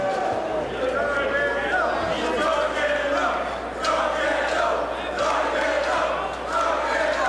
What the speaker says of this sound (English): Gargano drawing on the cheers of the crowd here